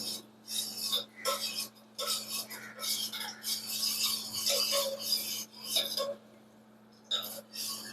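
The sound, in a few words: stirring a mixture in a pot on the stove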